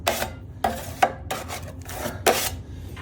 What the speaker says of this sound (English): So I get a nice amount of mud on my trowel